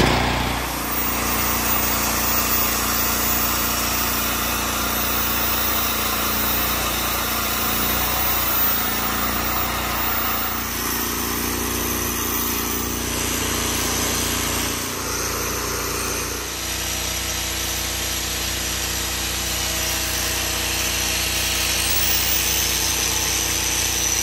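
Bench grinder sharpening a blade against the wheel, running as a continuous loud motor whine and grinding hiss that shifts in tone as the blade is pressed and angled, with no speech.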